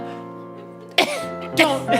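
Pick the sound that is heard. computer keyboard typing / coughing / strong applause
coughing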